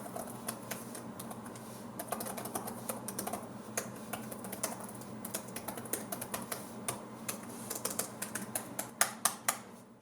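Typing on the keyboard of an MSI PS42 laptop, a steady patter of quiet, close key clicks with a few sharper taps near the end, with no voices.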